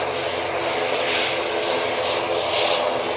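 Etihad airliner taking off from Manchester Airport, a loud, steady jet engine roar filling the whole clip with slow surges in intensity and no voices.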